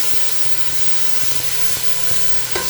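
Sofrito sizzles in a pot at the start of a chicken soup, giving off a close, continuous hiss with faint soft clicks and a small clatter near the end.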